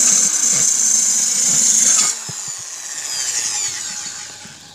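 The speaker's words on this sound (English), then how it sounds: "We'll carry on drilling some more holes now." A power drill bores a hole in a clay pot kept wet with water, giving a loud, high grinding whine for about two seconds before it cuts off, followed by quieter clatter and handling noises.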